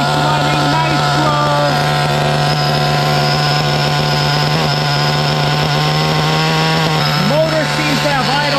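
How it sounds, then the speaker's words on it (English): An LRP32 nitro engine in an HPI Pulse 4.6 RallyCross RC buggy runs rich at a steady, loud, buzzing high idle, with a few small revving wobbles and no clear pauses. "We got a nice running Nitro."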